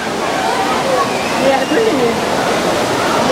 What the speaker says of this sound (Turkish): Evet kıymetli izleyenler gördünüz Saydebat şelalesini.